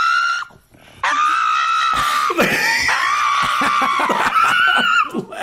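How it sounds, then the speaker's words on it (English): A dog screams with loud, high, drawn-out wails while its nails are trimmed, the cries nearly continuous after a short pause near the start. "That's the dog screaming."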